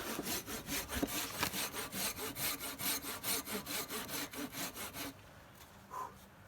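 A Silky folding saw cuts through wood at a riverbank camp, with steady rhythmic push-pull strokes, about three per second, close and loud for roughly five seconds before stopping, then faint rustling.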